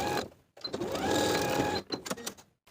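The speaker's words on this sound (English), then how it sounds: "we can sew closed the gap in the stitches. Following the original stitching line." A sewing machine stitches a closing seam on a wrap top blouse along the original stitching line, a close whirring run of rapid needle strokes lasting over a second, framed by short start-stop bursts.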